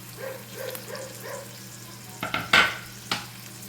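Chopped onion and tomato frying in oil in a pan, a gentle sizzle under repeated stirring, then a few louder scrapes and clanks of the spoon against the pan.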